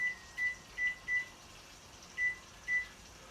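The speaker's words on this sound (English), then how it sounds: "Let me set the timer." A kitchen timer being set while pork chops roast in a 375 degree oven, giving short high electronic beeps in an uneven run of six over a steady room hum, with no talking.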